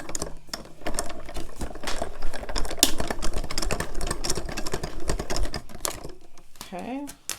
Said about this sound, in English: And then we're just gonna run these through our die cutting machine.